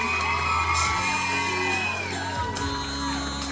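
An audience at a Hmong dance symposium cheers with whoops and shouts, a loud sustained crowd roar of overlapping voices that carries through the whole moment.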